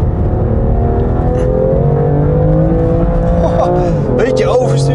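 BMW M2 Competition (2018) accelerating hard on a track and sliding in oversteer over the curbs, a loud steady engine drone with rising revs and brief tire squeal near the end, under continuous talk.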